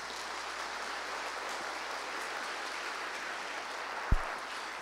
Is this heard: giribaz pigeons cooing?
no